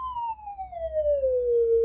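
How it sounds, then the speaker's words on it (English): A signal generator's test tone, set to 1 kHz, sounds as one steady pure whistle whose pitch slowly glides downward, clear and alone over a faint low hum. "What you hear now is a 1 kilohertz signal,"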